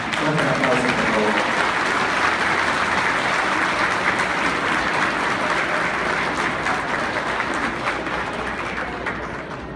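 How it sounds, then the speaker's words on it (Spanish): Applause from attendees at an agreement-signing ceremony, a sustained full round of clapping from a sizable group, with some voices mixed in before it softens at the end. "Un aplauso, por favor."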